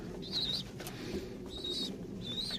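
A pigeon coos softly in three drawn-out calls while feeding another bird's chicks, faint and close against a quiet background hum.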